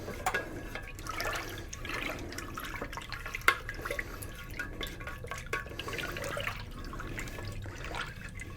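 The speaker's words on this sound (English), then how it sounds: "that oil being poured into the wax" Fragrance oil pouring into melted SoyBliss soy wax, a soft continuous liquid trickle with faint drips and small splashes, close and quiet under low room noise.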